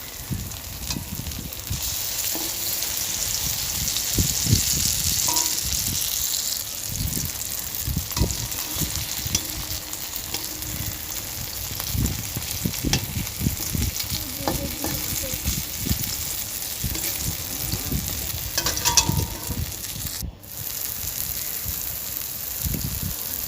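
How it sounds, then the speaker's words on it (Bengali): Chana dal fritters sizzle and crackle steadily in hot mustard oil, a continuous close, even frying hiss with small pops throughout. "সেই কারণে আমি সর্ষের তেল ইউজ করছি তো বড়াটা ভাজা হচ্ছে"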